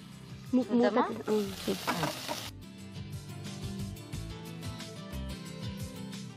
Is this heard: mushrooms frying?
yes